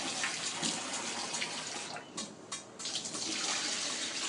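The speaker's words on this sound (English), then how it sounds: "I'm going to wash it with hot water just to discharge it" Rice being washed with hot water in a pot: a steady rush of running, splashing water that dips briefly midway, soft and close with no talking.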